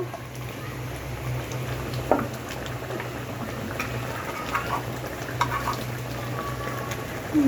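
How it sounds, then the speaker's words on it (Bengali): Water bubbling at a rolling boil in a cooking pot just after hot water is added for a Bengali home-style fish curry, a steady close-up simmer under a low background hum with faint voices. "দেখুন জল দেওয়ার পর বলক উঠে এসছে"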